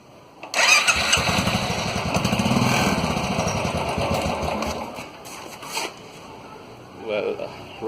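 A Royal Enfield motorcycle engine cranking on its electric starter and catching, a rapid mechanical churn that settles into a rough running rumble, then trails off with a few scattered clicks and a short burst near the end.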